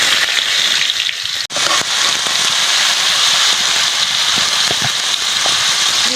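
Potatoes frying in hot oil with bay leaf and five-spice, a steady loud hiss and crackle that continues without pause, with a few brief louder pops and one short break.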